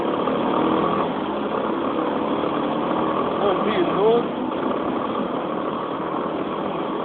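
A red motorcycle idles with a steady, even engine drone running under continuous talking, holding a constant level throughout.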